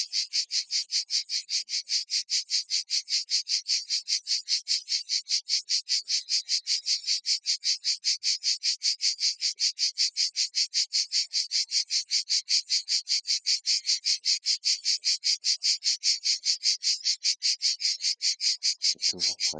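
Cicadas in Provence sing in a loud, steady rapid pulsing chorus that runs unbroken throughout, with a brief low thump at the very end.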